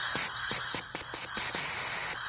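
A leaking aerosol spray can gives a steady broadband hissing spray throughout, broken by a few faint clicks and bumps, close and continuous with no voices.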